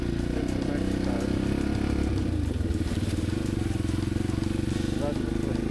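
A Honda XR250L dirt bike being kickstarted gives a loud, close, steady engine chug with a rapid pulsing beat that runs without a break.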